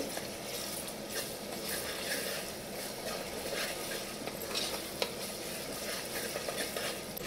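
Ginger garlic paste is stirred into fried onions in a pan, giving a steady sizzle under scraping stirs with a few sharper clicks of the spoon, close and moderately loud, with no talking.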